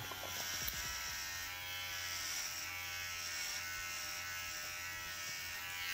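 Electric hair clipper running steadily close by, a continuous even buzz with no talking over it.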